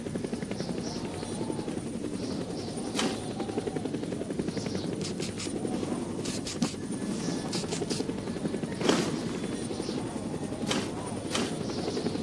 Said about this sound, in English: Give the signal to the helicopter so that it picks you up.